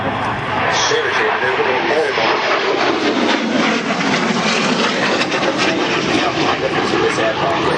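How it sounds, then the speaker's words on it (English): A thrust-vectoring jet aircraft roars steadily overhead at the 2005 Biggin Hill Airshow, a loud continuous broadband engine rush with no break. "this aircraft with the ability to vector the thrust was absolutely essential"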